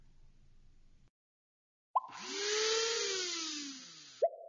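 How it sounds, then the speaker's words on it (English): A blender running: a rising whir that settles into a steady motor drone for about two seconds, then cuts off, faint and alone after a short silence. "That's the sound a blender makes."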